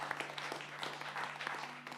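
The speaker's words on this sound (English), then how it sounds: "So another round of applause please for Leanne and Robbie Burns." A small Burns Night audience at Chapel FM claps for the performers, a faint, thin patter of scattered hands over a low steady hum, brief and distant.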